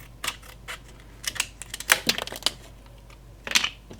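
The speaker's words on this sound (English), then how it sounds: "I found this plastic hummus lid, and I'm going to just cut out some little flaps" Scissors cutting small flaps out of a thin plastic hummus lid, a sparse series of crisp snips and crackles with quiet gaps between, close and faint.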